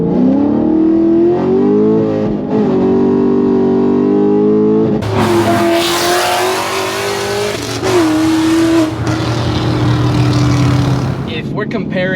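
A stock 5th gen Chevrolet Camaro ZL1 pulls hard down a straightaway. Its loud engine climbs steadily in pitch with brief breaks at the gear shifts, and the engine fills the cabin from start to finish.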